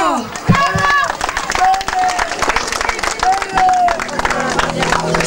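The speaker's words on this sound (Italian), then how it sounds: "Accogliamolo con un grande applauso." A loud audience applauds and cheers at an Italian music variety show as an impersonator is welcomed. A strong voice sings or calls out above the dense, continuous clapping.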